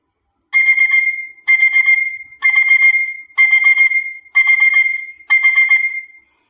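A performer imitates an alarm clock ringing, likely on a flute, at a music event: six bright, even trilling bursts, each about a second long with short gaps, loud and clear against silence.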